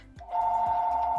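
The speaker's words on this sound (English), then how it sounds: "Excuse that phone." A phone rings with a short electronic ringtone, a clear sustained tone entering after a brief lower note, close and moderately loud, with no talk over it.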